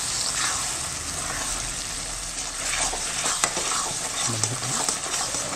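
Moong dal halwa stirred in a pan of melted ghee, a steady scraping and sizzling that runs throughout with soft spoon knocks, close and moderately loud, with no voices.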